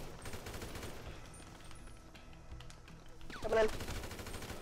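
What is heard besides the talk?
gunfire in GTA Online video game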